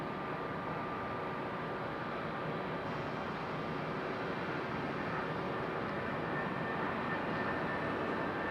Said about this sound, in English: One more wide body for the day.